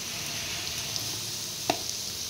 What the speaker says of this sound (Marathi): हे सगळ्या भाज्या आपल्याला यामध्ये परतवून घ्यायच्या आहे